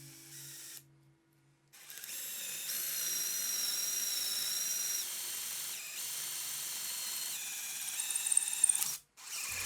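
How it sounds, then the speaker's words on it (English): A power drill whines steadily through a timber-frame mortise for several seconds, its pitch dipping slightly under load before stopping. "Next, I drill a hole all the way through the mortise that will accept a dowel."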